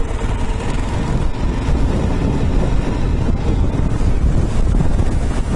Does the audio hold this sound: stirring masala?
no